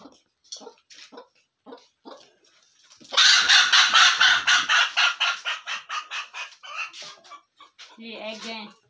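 Backyard chickens being given water cluck and squawk nearby in a rapid rhythmic run of calls, with someone talking before and around them and a brief louder fowl cry at the end.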